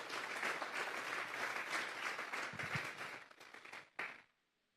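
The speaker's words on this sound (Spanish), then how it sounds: "Démosle un fuerte aplauso pues al Señor está." Strong, sustained applause from a church congregation fills the space for about four seconds, then a final burst of clapping cuts off into near silence.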